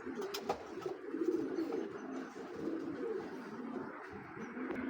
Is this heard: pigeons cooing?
yes